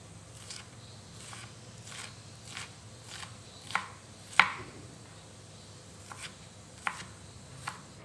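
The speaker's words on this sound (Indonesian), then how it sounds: "Cabenya diiris-iris aja. Bawang bombay potong agak kecil." A knife chops chili peppers and onion on a board for sweet-and-sour tempeh, giving a series of evenly spaced, crisp taps at close range with quiet pauses between them.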